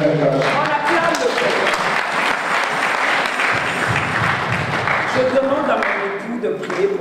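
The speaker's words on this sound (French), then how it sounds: "Est-ce qu'on peut acclamer le Seigneur? On acclame le Seigneur." A church congregation claps and cheers loudly at close range, with excited voices and shouts mixed into the continuous applause.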